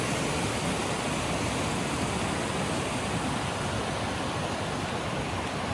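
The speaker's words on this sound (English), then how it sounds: "This beautiful flowing water." The Zigzag River rushes along beside a mountain trail on Mount Hood, a loud, unbroken broadband roar of flowing water with no voices.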